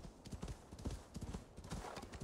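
Horse hooves clip-clopping in Assassin's Creed Valhalla, a quick run of close, fairly loud hoofbeats with a faint whinny-like tone, no talking over them.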